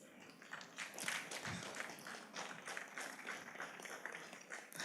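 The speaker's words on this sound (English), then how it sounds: "Please, let's stand up and give him a round of applause" A round of applause from a standing audience at an election security symposium and book launch, steady dense clapping throughout, fairly close and even in level.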